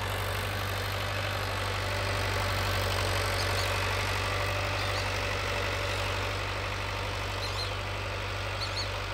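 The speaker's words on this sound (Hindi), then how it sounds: "11 का टीलर है भाई और ट्रैक्टर है 60-55 हॉर्स पावर" A Farmtrac 6055 tractor of 60-55 horsepower, pulling an 11-tine FieldKing tiller, runs with a steady low diesel drone, constant and fairly loud throughout with no voices.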